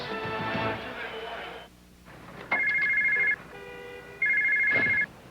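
A cell phone rings unanswered, two repeated electronic ring tones after a burst of broadcast background noise, clear and moderately loud with no one picking up.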